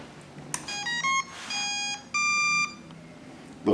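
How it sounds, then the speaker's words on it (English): An RC speed controller in a 1:12 scale HL Hunley model submarine plays its startup chime: a short sequence of clear electronic beep tones in rising steps, three held tones with brief gaps, moderately loud and close, no talk. "Little startup sound sequence lets the operator know that the electronic speed controller is active and is picking up the signal"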